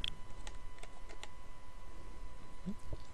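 Close keystrokes on a computer keyboard, a short burst of a few light taps spread over about three seconds against a quiet background.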